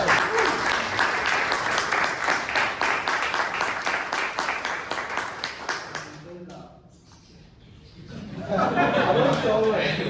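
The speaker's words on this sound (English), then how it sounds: "Give him a big round of applause." A Toastmasters club meeting audience in Bangalore claps for a speaker, a brisk, rhythmic burst of hands that fades to near quiet before a second swell of clapping and chatter rises at the end.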